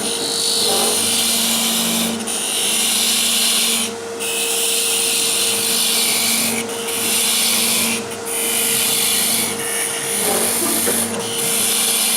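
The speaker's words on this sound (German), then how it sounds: "Jetzt entgratet er die Kanten ein bisschen." A power tool deburrs the edges of a workpiece in a workshop, whining with a steady high-pitched tone. The tone dips briefly every couple of seconds as the tool is worked along the edge.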